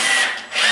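A cordless drill whirs briefly while driving a screw into wood during assembly of a ready-to-assemble cabinet, a loud close burst with a slight dip in speed midway, heard alone.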